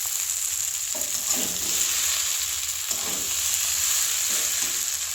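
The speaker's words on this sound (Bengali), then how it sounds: "দেখুন এইভাবে নেড়ে চেড়ে একটু কষিয়ে নেব" Mixed vegetables for labra are stirred and sautéed over low heat in a pan, giving a steady close sizzle with occasional scraping stirs of the spatula throughout, no talking.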